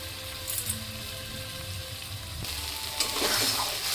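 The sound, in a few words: rice frying with spices in a pan for vegetable khichuri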